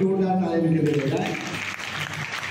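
An audience at a national poetry gathering in East Delhi bursts into loud applause that overlaps a speaking voice at first, then continues as dense, steady clapping.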